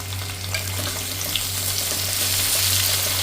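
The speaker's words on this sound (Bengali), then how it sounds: "আলুগুলোকে একটু তেলের সঙ্গে নেড়ে চেড়ে মিশিয়ে নিচ্ছি" Potatoes frying in oil are stirred in a pan, giving a steady broadband sizzle with a low constant hum beneath and faint scraping strokes throughout, with no talking.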